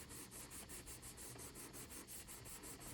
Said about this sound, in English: it's the sanding block. The sanding block does that.